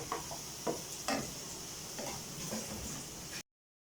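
Chopped onions sautéing with pepper, curry leaves and chili in a pan for cutlets, a steady soft sizzle with a few louder scraping stirs near the start and no talk.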